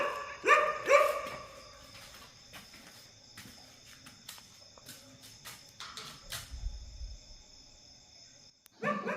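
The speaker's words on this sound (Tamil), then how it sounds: "ரொம்ப நேரமாக அந்த நாய் வந்து குலைச்சிக்கிட்டே இருந்தது" A dog barks a couple of times near the start, with more scattered barks further off, over a steady hum of crickets at night near a forest.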